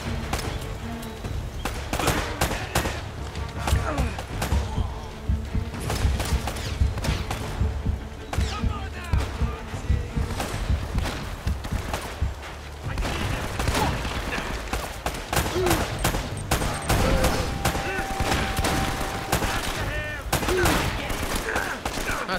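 Dense gunfire from Uncharted: Drake's Fortune erupts in nearly nonstop rapid bursts aimed at the player, loud and close, with shots overlapping throughout and occasional talk mixed in.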